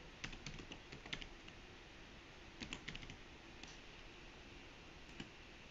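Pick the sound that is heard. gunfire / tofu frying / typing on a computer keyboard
typing on a computer keyboard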